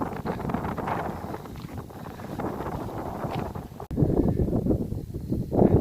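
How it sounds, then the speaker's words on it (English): Gusty wind roars across the rocky summit of Lincoln Mountain, buffeting the microphone with loud, rough blasts that strengthen sharply toward the end, with no voices. "So, here comes that wind again."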